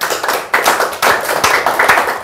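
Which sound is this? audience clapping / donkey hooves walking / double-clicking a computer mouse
audience clapping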